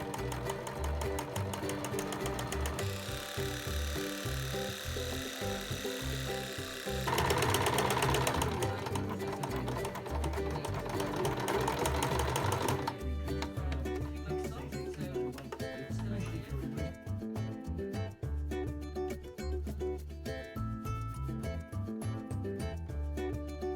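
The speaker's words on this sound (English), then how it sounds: "Now, either with your sewing machine or by hand, stitch down the entire length of the fabric" A sewing machine stitches fabric continuously, its needle chattering in a fast mechanical rhythm that shifts speed partway through, with no pauses.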